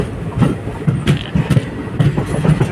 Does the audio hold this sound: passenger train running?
yes